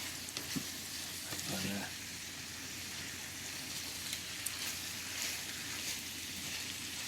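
Prawns frying in black bean sauce are stirred around a hot pan, giving a steady, even sizzle throughout with a few faint scrapes of the utensil, no speech.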